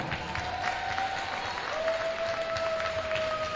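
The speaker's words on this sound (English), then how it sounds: "One more round of applause for Kira." Crowd applause in a high school gym during a senior night ceremony at a varsity basketball game, a steady, dense clapping wash lasting throughout with a faint tone hum over it.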